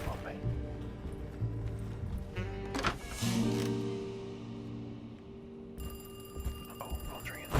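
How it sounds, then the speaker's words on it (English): A telephone rings in the survival horror video game Alone in the Dark. A bright electronic trill comes in near the end under game noise and ambience, while a voice talks over parts of the scene. "Oh, phone's ringing."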